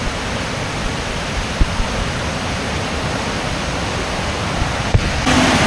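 Rushing water at Chamadka falls near Sullia pours in a dense, steady roar. It stays loud and continuous throughout, with only a couple of faint knocks on top.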